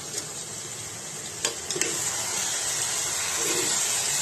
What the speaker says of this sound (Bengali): এখন দিয়ে দিব একটা টমেটোর টুকরো।